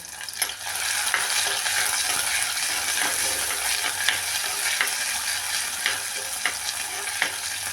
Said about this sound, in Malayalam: വെളുത്തുള്ളി ചതച്ചത് വിടാം ശകലം മൂക്കത്ത്